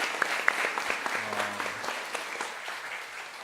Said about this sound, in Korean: 큰 박수 한번 해주시면 좋겠습니다